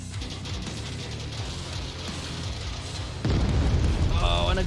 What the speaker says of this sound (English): Oh, and a great frag that comes out to take.